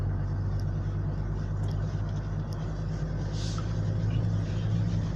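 Mitsubishi Pajero Sport climbing a steep off-road mountain trail, its engine giving a steady, loud low rumble heard from inside the cabin throughout, with no talking.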